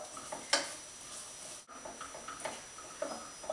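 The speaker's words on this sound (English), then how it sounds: "So I'm going to saute my onions first." Onions sauté in a pan, a faint sizzle broken by a few light stirring clicks and scrapes, with no talking.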